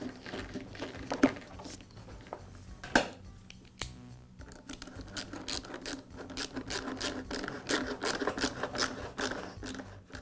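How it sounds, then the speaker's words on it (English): Handling an Echo leaf blower's flexible tube and hose clamp: faint, close rubbing and plastic handling noises with scattered clicks and ratcheting ticks from tightening the clamp, quiet and without talk. "Now I'll install the flexible tube back onto the elbow and secure it with the hose clamp."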